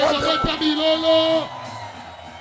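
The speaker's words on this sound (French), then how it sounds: "Si vous êtes heureux, poussez des acclamations." A church congregation at an evening prayer service cheers and shouts acclamations, loud voices raised together in sustained whoops that fade after about a second and a half into quieter crowd murmur.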